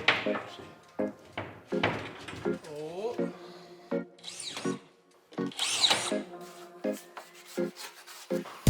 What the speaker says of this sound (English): I just invented a technique to shave down drywall